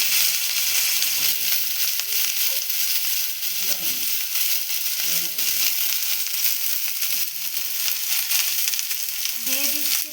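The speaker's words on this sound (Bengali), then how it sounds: "ফ্রাইড রাইসের জন্য সবজিগুলোকে ভেজে নেব, সেই জন্য কড়াতে দিয়ে দিলাম তেল, দিয়ে দিচ্ছি গাজর" Carrots and mixed vegetables fry in hot oil in a wok for fried rice, a steady loud sizzle running throughout with occasional stirring clatter and no talk.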